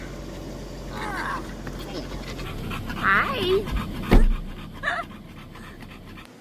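A puppy pants and whimpers in short, soft bursts close by, with a quick greeting from a person over a steady low background hum and one sharp knock partway through.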